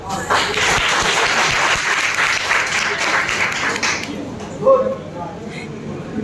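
An audience applauding at a stage play, a dense burst of clapping for about four seconds that fades out, followed by quieter room sound and a brief voice.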